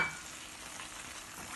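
Shrimp bhuna with green chilies and coriander being stirred in a pan, a short burst of soft steady sizzling with light stirring, close and quiet, no speech.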